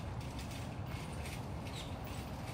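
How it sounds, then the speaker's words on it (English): A feeding cart rolls along with steady creaking and mechanical rattling, a dense continuous clatter that is fairly close and never stops. "Oh, that's a feeding cart. That is a very exciting noise."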